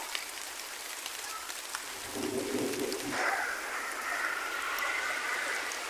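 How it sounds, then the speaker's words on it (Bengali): Rain pattering on tree leaves, a steady soft hiss of drops across the whole stretch with a faint bird-like tone entering midway, heard from nearby outdoors with no talk. "আর টিপটপ করে বৃষ্টি পড়ছে"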